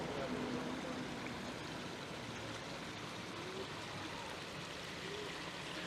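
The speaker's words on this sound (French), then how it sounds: "il y a que l'eau qui coule" Water runs steadily in a newly redone pedestrian street in Epinal, a continuous faint wash with no pauses, while a voice speaks now and then over it.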